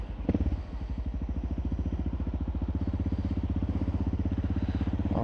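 Suzuki DR650 single-cylinder motorcycle engine running steadily close by, a rapid even thumping pulse that holds at a constant idle-like pace throughout with no talk.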